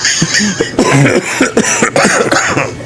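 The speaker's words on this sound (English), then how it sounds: "Kevin's clearing his throat" Several rough throat clearings and coughs in quick succession, close and loud, with short gaps between them.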